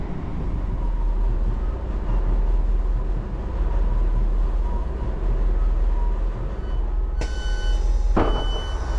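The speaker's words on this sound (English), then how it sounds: "So I'm on the train now" Inside a passenger train running out of Nantwich towards Wem, a steady low rumble and rattle of wheels on track fills the carriage, with a brief bright beeping tone sounding near the end.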